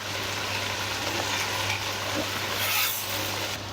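Onion and spice masala for an egg curry frying in a pan, a steady close sizzle with occasional stirring scrapes, no voices.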